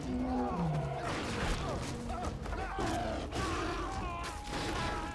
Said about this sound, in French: ce tigre à dents de sable, essaye de nous voler notre mammouth